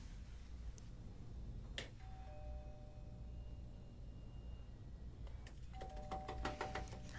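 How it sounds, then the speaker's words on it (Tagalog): An electronic doorbell chimes twice, once early and again near the end, over a quiet room hum with no talking. "Huwag mong pindutin ang doorbell."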